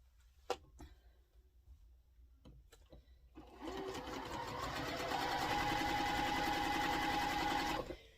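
A sewing machine chain piecing rows of quilt blocks for a sampler quilt, starting after a few soft clicks and handling sounds, then running steadily and close with a rapid, even stitching hum.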